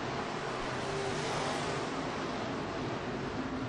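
USRA B-Mod race cars roaring around the Mason City Motor Speedway track during a feature race, a dense, steady wash of engine noise with no break across the whole stretch.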